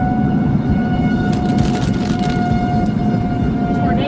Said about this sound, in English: Tornado sirens are roaring on the west side of Topeka